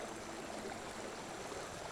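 A naturally boiling stream, a steady, even wash of rushing, bubbling water that holds constant and fairly faint throughout, with no voices.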